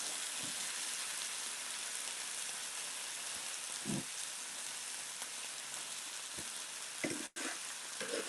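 Onions sizzling and frying steadily in a pan, a continuous loud crackling hiss with a few soft stirring bumps and scrapes, no voices.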